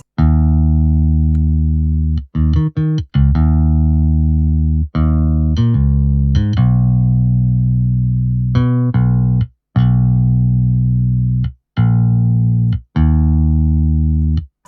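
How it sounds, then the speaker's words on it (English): A clean synthesized bass line from the IK Multimedia MODO Bass 2 plugin plays alone, loud and close: sustained low notes with a few quick staccato hits, in a steady repeating pattern. "Can't forget the bass line."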